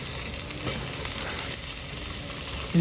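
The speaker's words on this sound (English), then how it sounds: "You want to hear the veggies sizzling when you add them into your hot molcajete." Steady, close sizzling of vegetables frying in a very hot molcajete, a stone bowl, a dense crackling hiss throughout with no talking.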